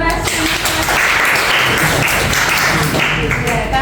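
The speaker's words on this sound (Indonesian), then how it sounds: "Tepuk tangan dong untuk rasa." Classroom applause for a student who answered a question, a dense, steady burst of clapping from a group of students, loud and close throughout, with some voices mixed in.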